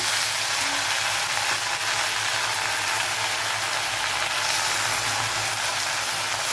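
Coriander and mint leaves sautéing in a hot pan for chutney, a steady, close sizzle that holds at an even level throughout with no talk.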